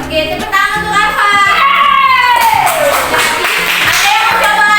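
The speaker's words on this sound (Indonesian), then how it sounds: "tepuk tangan untuk Alfa" Children in a classroom clap for a classmate, their quick, loud clapping mixing with excited young voices calling and chattering throughout.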